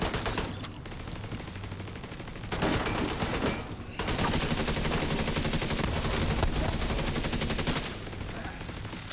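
Sustained automatic suppressing gunfire rattles almost without pause in The Division 2, loud and dense bursts separated by brief lulls, with a clipped voice barely audible beneath.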